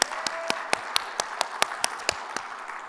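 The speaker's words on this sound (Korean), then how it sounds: "우리 하나님께 영광의 박수" A church congregation claps together in a steady, even rhythm of about four claps a second, each crisp and loud, over a low room murmur.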